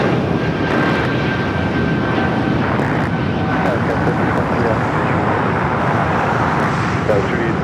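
A fixed-wing airliner landing on runway 25 Left at Los Angeles International Airport, heard as a steady, loud broadband jet roar with some background traffic, continuous throughout with no distinct breaks.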